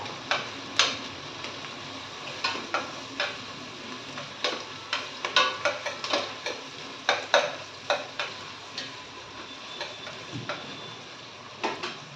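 Chicken sizzling in a pan for a Telugu-style chicken curry, a steady low fry punctuated by repeated clicks and taps of a spoon stirring against the pan, close and moderately quiet with no talking.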